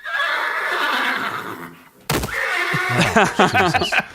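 Horse neighing in a video game: a long, loud whinny rings out, then after a brief cut comes a second run of shrill, wavering neighs, close and clear.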